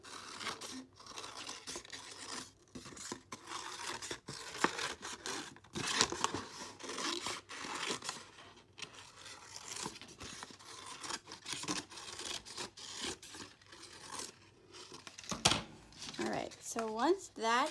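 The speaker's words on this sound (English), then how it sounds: "with a pair of scissors, you're just gonna cut it out" Rapid crisp snipping of scissors cutting a paper plate, with paper scraping running steadily and a voice speaking briefly near the end.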